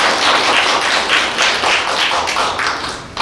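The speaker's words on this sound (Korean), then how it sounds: "네, 박수 한번 드리시죠." An audience applauding at a residents' meeting on a neighborhood housing redevelopment project, with steady dense clapping from a hall crowd throughout, close and loud.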